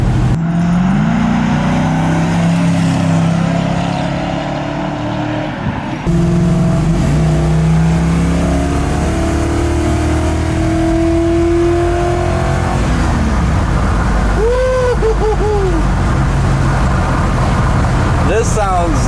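LS-swapped 1968 Chevrolet C10 pickup with Flowmaster dual exhaust, a steady loud V8 rumble and drone filling the whole stretch, with a few revving swells and people talking over the engine.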